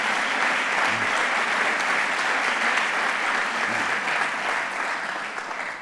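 Steady, dense audience applause at the Carles Rahola local communication awards ceremony, filling the room evenly and tapering slightly at the end.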